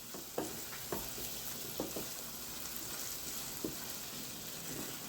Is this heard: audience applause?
no